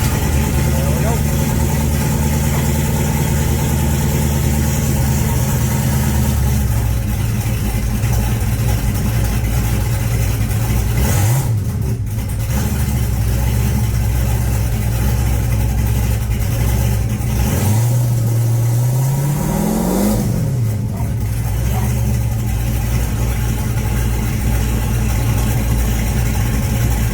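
A cammed LT1 V8 in a 1996 Camaro idles with a loud, lumpy, continuous rumble, with a few brief revs that rise and fall; a voice talks over it at times.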